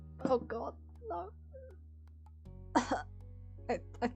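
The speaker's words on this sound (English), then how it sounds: "I think I may be coughing up blood." A person coughs and clears their throat in short harsh bursts, several coughs in two clusters separated by a quiet pause, close and fairly soft over a steady low hum.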